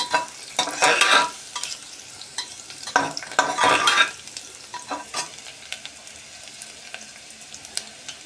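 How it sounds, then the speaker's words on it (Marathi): Cloves frying in oil alongside cardamom and peppercorns, with crisp sizzling and repeated scraping stirs in clustered bursts that thin out toward the end. "आणि लवंग आहे ती पण घालूया आपण याच्यामध्ये. छान असं तेलामध्येच याला परतवून घेऊया."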